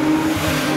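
A Porsche 911 drives during testing, its engine a steady, loud drone with a sustained tone and a hint of tire noise, close and brief with no voices.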